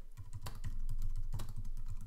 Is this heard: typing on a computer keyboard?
yes